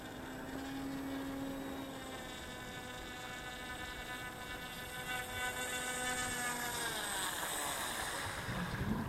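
Remote-control model airplane coming in to land outdoors, its motor a steady droning whine with shifting harmonic pitch, continuous and moderately close, with light wind noise and no talking.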